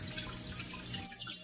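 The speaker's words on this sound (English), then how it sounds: "Everything's flowing and you got your aeration through all your bubbles." Water flowing and bubbling steadily in a goldfish aquarium, with a hang-on filter and aeration bubbles keeping up a continuous trickling, splashing wash close by.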